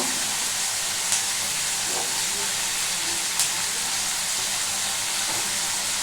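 Green chillies are stirred into bottle gourd and prawns frying for lau chingri ghonto, giving a loud, steady hissing sizzle with a couple of faint clinks from the pan.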